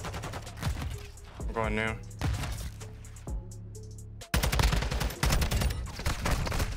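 Close automatic rifle fire in Call of Duty: Modern Warfare II, rapid bursts repeating through the clip with a louder volley near the end, while a player talks over it.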